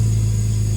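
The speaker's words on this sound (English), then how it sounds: "Idling quite high at the moment because we haven't warmed it up," Ford XM Falcon fitted with an AU engine idles high while still cold, a steady low engine drone with a constant hum and no talk over it.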